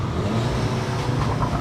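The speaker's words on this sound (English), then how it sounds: "A few little pops there, I don't know if you could hear that." SEAT Leon Cupra 300 engine and exhaust in manual mode, a steady mid-pitched rumble with faint, small pops and crackles from the exhaust, with no clear sharp bangs standing out.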